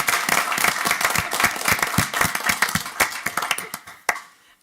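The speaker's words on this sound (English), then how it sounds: "but we're going to clap" An audience at a school board meeting claps loudly in honour of an award-winning superintendent. Many sharp, close hand claps come in a dense, uneven burst that thins out and stops abruptly near the end.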